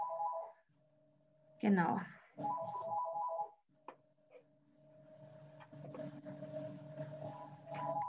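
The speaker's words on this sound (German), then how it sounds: "es läutet kurz das Telefon" An office telephone rings briefly, a short electronic tone with steady pitched bands, heard indoors under and between a person talking.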